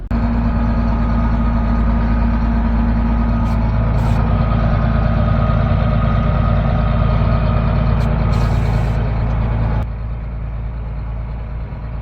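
A New Holland 8770 tractor's diesel engine running steadily at idle outdoors in cold, windy conditions, a loud, deep, constant rumble with brief higher rattles, then slightly quieter toward the end.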